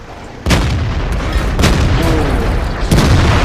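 Tank cannon fire hitting from behind in World of Tanks: several heavy booming shots with rumbling impacts, loud and close, one after another over continuous engine and battle noise.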